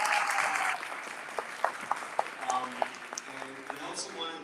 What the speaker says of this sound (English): Let's give Gene a hand of applause.